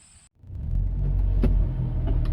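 A 1968 Ford Mustang fitted with a 2.3L EcoBoost engine drives along the road, a steady low rumble of engine and road noise building after a brief pause and holding fairly loud and close.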